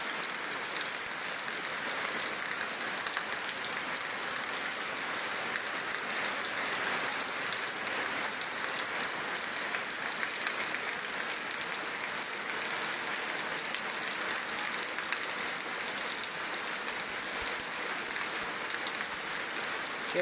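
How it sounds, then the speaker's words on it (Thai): Heavy rain falls steadily outdoors, a dense, unbroken hiss of drops that holds at the same level for twenty seconds with no talk. "ฝนตกแห้งเด้อพี่น้องได้ทางนี้ได้ฝนตกแห้งเด้อ"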